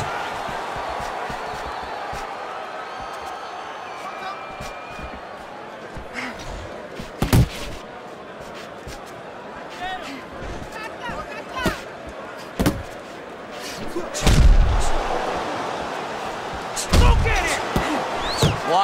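Punches landing in the Fight Night Champion boxing game during an Elwin Soto versus Katsunari Takayama bout: several sharp, heavy thuds strike at irregular moments over a steady crowd murmur, with a broadcast commentator talking throughout.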